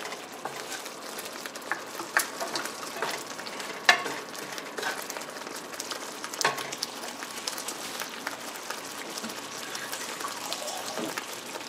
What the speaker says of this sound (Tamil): ஒரு 5 மினிட்ஸ் வந்து கொதிக்கட்டும்.